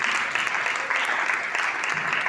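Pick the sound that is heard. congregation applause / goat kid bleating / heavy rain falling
congregation applause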